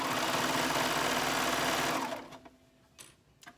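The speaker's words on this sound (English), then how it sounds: "I'm just serging through these two layers." A serger stitches through two layers of knit fabric, joining a sleeve to the armhole of a basic tee. Its loud, fast, steady whir runs for about two seconds and then stops abruptly, followed by a few faint handling clicks.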